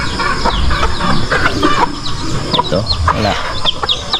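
Short clucks and sharp chirps from laying hens on a farm, near and continuous, while a person speaks a couple of brief words over them.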